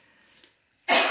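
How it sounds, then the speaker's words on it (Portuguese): A single sharp cough bursts out near the end, close and loud, after a moment of faint room sound; it comes from a woman in a home kitchen while she makes popcorn with a sugar syrup. "Ai, gente, eu preciso tossir."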